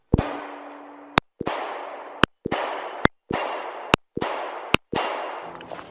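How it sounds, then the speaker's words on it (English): Sig Sauer P365 pistol fired on an outdoor rifle range: seven sharp, loud shots spaced about a second apart, each with a ringing decay, and no talking. "Let's just take some shots here on the rifle range and see where our shot placement is"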